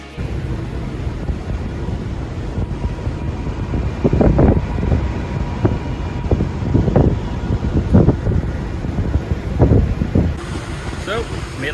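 Steady wind buffets the microphone with a low roar on a ferry deck, gusting in several heavier bursts over a constant background rumble.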